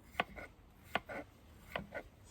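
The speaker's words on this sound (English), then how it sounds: "Finish chopping up this red pepper." Knife chopping a red pepper on a cutting board: three pairs of crisp, close taps at an even, unhurried pace, each sharp strike followed by a softer slicing tap, no talking.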